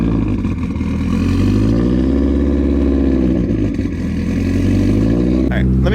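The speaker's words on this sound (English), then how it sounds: "a little bit of cold start sounds." A Subaru Legacy engine idles after a cold start, a loud, close, steady low rumble with a wavering higher whine that dips and recovers mid-way, ending with a brief clatter.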